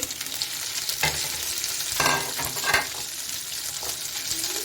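Chicken hitting a pan of golden-brown fried onions, with steady close sizzling and frying, a few louder bursts and stirring scrapes, no talking.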